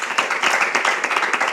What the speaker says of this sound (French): On l'applaudit pour elle.